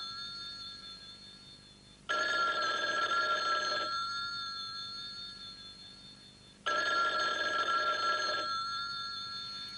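An old landline telephone bell rings in two long electronic bursts a few seconds apart, faint and fairly distant, alone with no talk.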